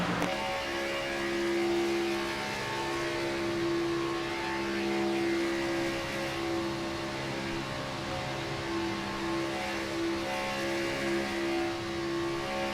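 Race car engine at full throttle down the back straightaway at Talladega, heard as a sustained droning roar with steady tonal harmonics that swells gently, continuous and without speech.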